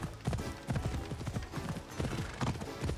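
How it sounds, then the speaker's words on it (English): Horse hooves clip-clop at a steady walking rhythm in a video game, the repeated thudding steps loud and close throughout. "this horse is amazing"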